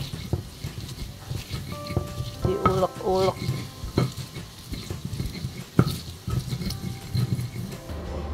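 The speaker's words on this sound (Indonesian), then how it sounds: "aduh kepanasan minyaknya ini goreng terasinya" Shrimp paste sizzles and crackles as it fries in hot oil in a pan, with scattered stirring clatter and brief tonal beeps in the background.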